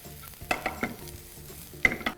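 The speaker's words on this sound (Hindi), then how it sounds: "इसे क्विकली हमें स्टर करना है। None of it has to go brown, just a little quick stir fry" Ginger and green chili stirred briefly in a hot pan, a low hiss under several sharp spatula knocks and scrapes in quick bursts, close by.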